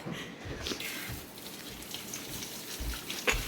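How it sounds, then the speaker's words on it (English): Steady splashing of tap water running over a tomato being rinsed in a kitchen, a continuous hiss with small bursts of spatter. "I'm going to take a tomato. I'm going to rinse it off."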